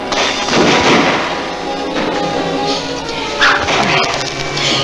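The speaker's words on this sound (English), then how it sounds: "Crawl down the gully while we keep up a covering fire." Loud, sustained gunfire and booming shots fill a western movie shootout, a dense continuous barrage with a few heavier blasts standing out.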